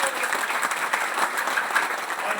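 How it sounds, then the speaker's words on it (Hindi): Audience at an RCM business achievers' event clapping loudly for an honored guest, a steady, dense burst of applause with no talk over it. "हमारे जो गुरुदेव दिनेश चौधरी सर आए हैं उनके लिए एक बार जोरदार ताली"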